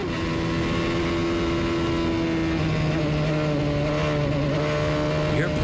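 An IndyCar race car engine at Road America drones loud and steady as the driver modulates the throttle, its pitch wavering and shifting without letup and no voices over it.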